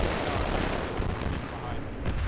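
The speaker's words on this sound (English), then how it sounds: "Is that thing firing a SMG at it, or are they firing an SMG into the Vic?" Sustained SMG fire in a military video game, a loud, dense, continuous rattle of rapid shots filling the whole moment with no pause.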